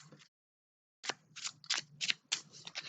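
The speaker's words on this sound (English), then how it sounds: "I think we'll shuffle this hand back" Star Wars Unlimited cards being shuffled by hand, several quick crisp riffling bursts in a row after a short silence, close and fairly quiet.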